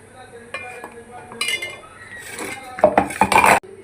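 A pot of fish curry is stirred after spices go in, with metal spoon clinks and scrapes against the pan growing louder and more frequent toward the end over a faint background hiss.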